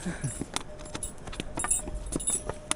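Horses walk along a mountain pilgrimage trail to Kedarnath in Uttarakhand, their hooves clip-clopping in a steady, irregular patter close by over a continuous outdoor background, with no talk.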